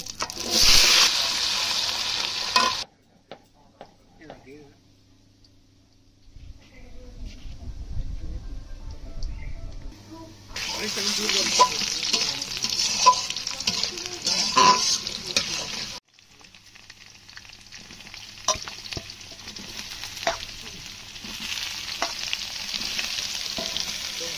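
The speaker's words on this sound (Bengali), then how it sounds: "এবার আমি আলুগুলো ভেজে নেব।" Sliced potatoes fry in oil in a pan in a traditional Bengali village kitchen, crackling in loud sizzling bursts with occasional stirring, broken by a long quieter stretch before the frying surges again.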